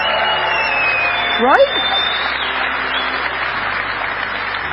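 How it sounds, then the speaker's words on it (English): Crowd clapping at a sunny outdoor conference, a continuous wash of applause with a brief voice and a short whistle-like rise cutting through near the middle. "Let's clap it up for these guys."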